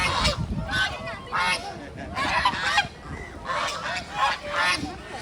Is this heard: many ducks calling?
yes